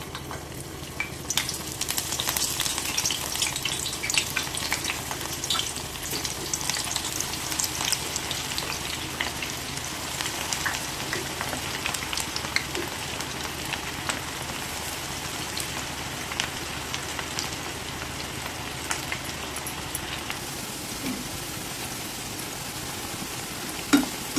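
Cauliflower pieces deep-frying in hot sunflower oil in a kadai, a steady, dense crackling sizzle that holds close and even throughout with no talking.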